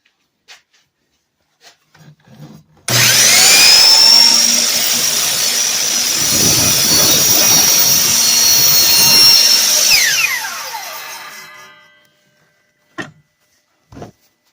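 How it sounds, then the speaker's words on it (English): A power saw makes an angle cut through a wooden railing piece, one loud sustained cut of about seven seconds that starts abruptly and tapers off as the blade winds down, with a few faint knocks before and after. "we're going to make this angle cut"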